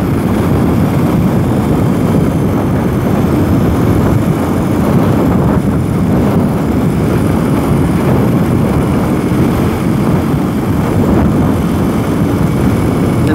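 A 2021 BMW R 18 cruiser motorcycle's big boxer engine pulls hard in top gear at highway speed, a steady low drone mixed with heavy wind rush, continuous and loud throughout.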